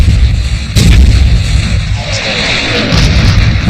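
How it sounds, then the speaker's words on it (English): An artillery barrage opening a WWII offensive booms in loud, overlapping heavy blasts and rumbling concussions, continuous and close, with no voices. "Montgomery launches his offensive with a preliminary artillery barrage, followed by a massive tank assault"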